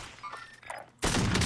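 Video game gunfire in a sniper match: a dense burst of rapid shots erupts loudly after a second of quieter game sounds and effects.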